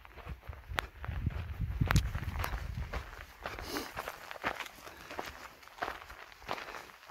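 Footsteps walking up a desert trail beside a spring, a series of crunching, uneven steps, heavier and closer at first and then lighter and more scattered, with outdoor ambience and no talking.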